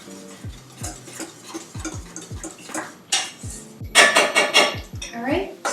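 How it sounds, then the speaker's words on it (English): Flour, baking soda and salt are stirred in a bowl for banana bread, with a utensil scraping and clinking against the bowl in a quiet rhythm that grows louder toward the end. "And we're just gonna give it all a good mix."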